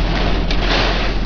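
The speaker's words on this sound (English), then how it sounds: "that's actually rain and debris" Rain and tornado debris such as leaves and branches pelting a car from outside while riding inside it, a dense, loud, continuous roar of impacts with no gaps.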